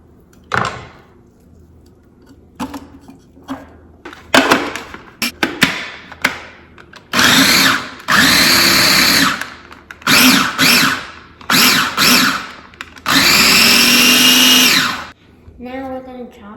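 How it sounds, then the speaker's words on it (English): Blender chopping onions for potato latkes in a home kitchen, several loud whirring bursts of a few seconds each, with the longest near the end, separated by pauses and short spoken remarks. "And now we're gonna put this in the blender."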